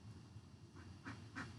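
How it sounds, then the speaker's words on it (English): Ducks quack a few times outdoors near a campfire, short faint calls against a quiet background. "I hear the ducks"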